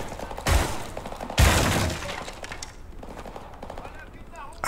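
Call of Duty campaign gunfire with loud, close bursts of automatic rifle fire and shattering impacts, two heavy volleys followed by fading rattles and debris, with voices talking underneath.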